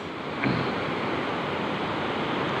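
Ocean waves wash steadily onto Selong Belanak beach in Lombok, a continuous broad surf roar with wind buffeting the microphone and a slight swell near the start.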